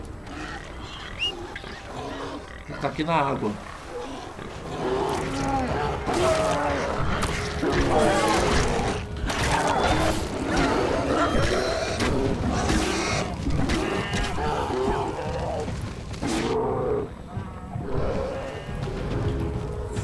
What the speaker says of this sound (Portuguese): Aonde que eles estão atraindo esse urso?